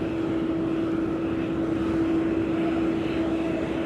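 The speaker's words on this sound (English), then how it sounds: "Oh, DHL 767." DHL Boeing 767 cargo jet at East Midlands Airport, a steady droning engine hum with a constant low tone, close and unbroken throughout with no talk.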